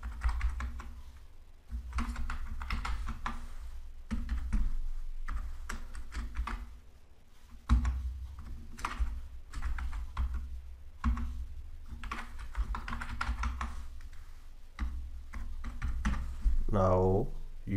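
Close computer keyboard typing as card payment details go into a checkout form, with steady bursts of quick key clicks separated by short pauses and a voice talking at times.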